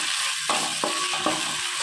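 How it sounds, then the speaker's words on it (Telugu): Ginger garlic paste frying in a pan for a Telugu-style bagara rice, giving a steady close sizzle with a few brief stirring scrapes and clinks, no talking. "ఇప్పుడు కొంచెం అల్లం వెల్లుల్లి పేస్ట్ వేసుకుందాం. పచ్చివాసన పోయే వరకు వేయించుకోవాలి."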